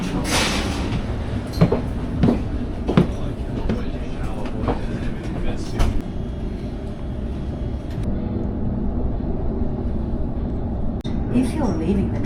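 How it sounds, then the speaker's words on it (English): Sydney commuter train on the Macarthur line rolling along with a steady rumble and rattle inside the carriage, clicks and knocks over the track, and a chime-like tone near the end. "That's the train we want"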